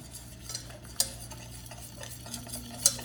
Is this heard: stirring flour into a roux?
yes